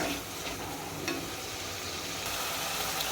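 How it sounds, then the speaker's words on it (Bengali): Whole spices including cinnamon frying together in hot oil in a pan, a steady close sizzle with soft stirring scrapes, no voices, for a desi rooster curry. "একসাথে সব মশলা অ্যাড করে দিয়েছি এখন ভালো করে ভেজে নেব"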